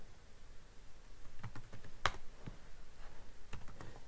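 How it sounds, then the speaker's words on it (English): Keys clicking on a computer keyboard as a terminal command is entered, a short run of close, crisp taps in an uneven rhythm, quiet and with no talking. "you type speed test to run the application"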